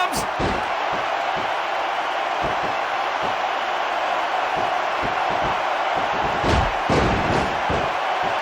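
Constant crowd roar and cheering from a WWE SmackDown! vs. Raw 2006 wrestling match on PS2, a dense steady wash with occasional thuds and swells, heard alone.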